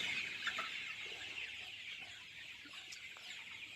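Chickens cluck softly and intermittently on a poultry farm against a faint steady background hum, with scattered short calls from several birds.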